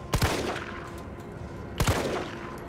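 Two gunshots in Resident Evil 3 Remake, each a sharp loud crack with a short echoing tail, roughly 1.7 seconds apart over a low steady game ambience.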